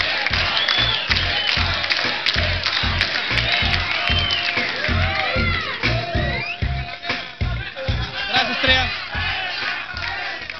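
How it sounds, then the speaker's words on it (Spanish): A live audience in Las Vegas applauds and cheers as a 19-year-old woman named Estrella is called forward. Dense, loud crowd noise with shouts and whoops runs continuously over rhythmic clapping. "vamos a traerle un aplauso para Estrella"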